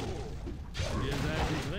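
Cannon towers firing in the Warcraft 3: The Frozen Throne video game, heavy booming shots landing in quick succession as a dense, rumbling barrage with no pause between blasts.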